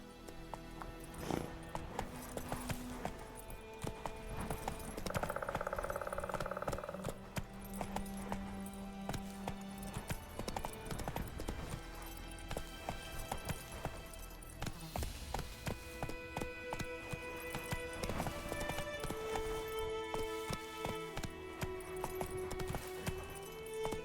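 Roach, the horse in The Witcher 3: Wild Hunt, gallops with steady rhythmic hoofbeats under game music and ambient effects, while a player talks at times.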